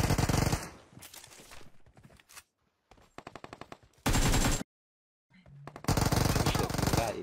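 Bursts of automatic gunfire in PUBG Mobile, loud and close, broken by short silences, with a heavy burst near the middle and a sustained volley at the end.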